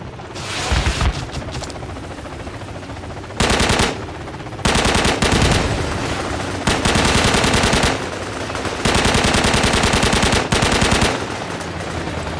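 Loud automatic gunfire in the Project Reality video game mod on the Kokan map, several long sustained bursts with brief pauses between, dense and close as multiple weapons open fire together.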